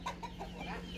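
A rooster gives a few short clucks near the start, then a softer trailing call, fairly faint over a steady low hum, with no speech.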